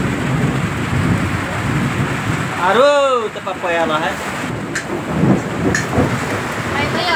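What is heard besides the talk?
heavy rain with thunder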